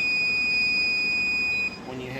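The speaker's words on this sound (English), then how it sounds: "when you do have an alarm, you get the buzzer" A fail-safe alarm panel sounds its alarm buzzer, a steady high-pitched electronic tone that holds for about a second and a half, then cuts out abruptly.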